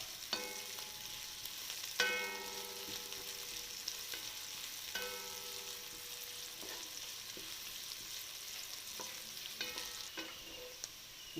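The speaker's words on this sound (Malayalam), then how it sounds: "ഈ അരിഞ്ഞു വെച്ചിരിക്കുന്ന ഒരു സവാള ഇതിനകത്തേക്ക് ഇടാം" Chopped onion sautéing in a pan for a chicken roast, a soft, fairly faint sizzle under repeated ringing spatula clinks against the pan at irregular intervals, with no one speaking.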